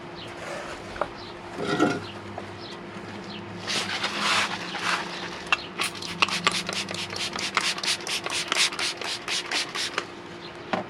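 Rubbing and wiping strokes as a cloth cleans the paintwork around a scratch on a car, close up, starting with a few scattered swipes and building into a steady run of quick, repeated rubs with no talk.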